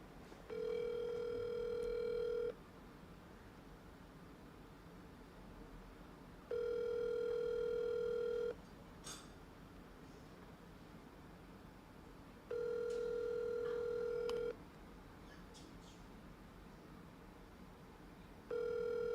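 An outgoing phone call rings unanswered, with four evenly spaced two-second ringback tones separated by long pauses over faint background hiss.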